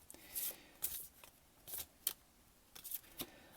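A deck of oracle cards being shuffled by hand in a few short, crisp riffling bursts separated by pauses, close and fairly quiet, with no talking.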